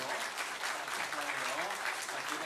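A church congregation claps during a Sunday morning service, a steady, full round of applause that continues throughout.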